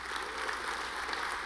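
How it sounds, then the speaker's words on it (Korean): Brief, steady applause from a church congregation, a dense even patter of many hands clapping at moderate distance with no talk over it. "야, 박수 한번 해야 돼."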